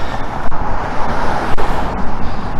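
Steady roar of car traffic at a street intersection, with loud passing vehicles and a few sharp knocks over a constant rumble.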